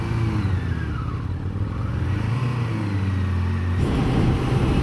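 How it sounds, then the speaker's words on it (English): A 1998 Suzuki GSXR 750 SRAD motorcycle engine revving, a loud continuous drone that climbs and falls in pitch and swells again near the end. "You can hear it all the time revving."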